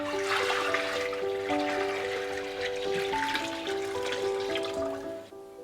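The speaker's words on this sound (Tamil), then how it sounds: "நான் வந்து அது முங்குற அளவுக்கு மேற்கொண்டு தண்ணி சேர்த்துக்க போகிறேன்." Tap water pours steadily into a basin holding a new clay pot being seasoned, a continuous close hiss that fades at the end, with soft tonal music running underneath.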